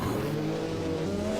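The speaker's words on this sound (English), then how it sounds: "final E1 plus 2000 cars go over the line together" E1 plus 2000 class race cars on a European Hill Climb Championship course at Trento Bondone, their engines droning steadily at a sustained, moderately distant roar.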